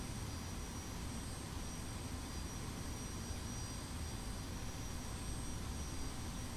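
Jet engine of an F-86F Sabre in the DCS flight simulator, steady broadband roar with a faint high whine, heard from inside the cockpit while landing with gear down, continuous and even throughout with no talk.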